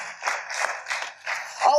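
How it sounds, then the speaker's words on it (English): An audience at a Nigerian engineering event applauds in short, uneven bursts of moderate loudness while a voice carries on over the clapping. "Please a round of applause for him."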